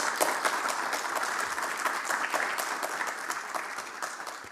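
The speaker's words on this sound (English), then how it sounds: "I think he deserves a bigger hand clap." An audience at a global public health conference applauds after a keynote speech, dense sustained clapping from many hands filling the room evenly throughout.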